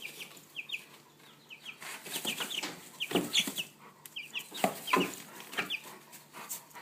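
Several chickens cluck nearby in short, irregular bursts, with soft chirps and throaty clucks overlapping in a busy, close flock sound.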